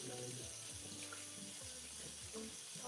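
Tap water runs steadily into a kitchen sink while a juicer part is rinsed under it, a continuous close hiss and splash with shifting tones as the part moves through the stream.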